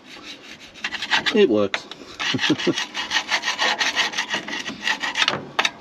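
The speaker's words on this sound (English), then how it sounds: "It's actually a pry bar moonlighting as a scraper" Rough, rasping scrapes from a pry bar pressed into service as a scraper during hydraulic repair work on a Fordson Power Major crane, coming in quick repeated strokes with a brief muffled word partway through.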